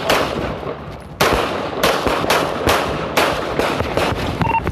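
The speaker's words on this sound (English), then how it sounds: "Shots fired." Police officer firing a series of gunshots during a foot chase, with several loud, sharp reports spaced unevenly over a few seconds, close by and dominating the sound.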